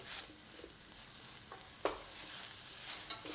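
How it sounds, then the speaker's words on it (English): Green beans warming in a pan make a faint, low sizzle as they are stirred, with a few soft scraping strokes over a quiet, short stretch. "We're just going to stir them around and cook them for a minute to warm them up."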